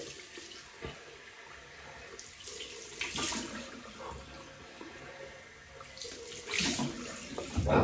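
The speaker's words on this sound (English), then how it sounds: "Cold water rinse." A tap runs cold water for a rinse during a shave, a quiet steady flow with splashing surges as hands or face meet the stream, rising in a few brief louder bursts.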